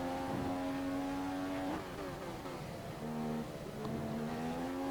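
A Formula 1 race car engine in the F1 2015 video game at the Melbourne circuit revs high and steady, dropping pitch at shifts and climbing again, a continuous loud whine with no talking.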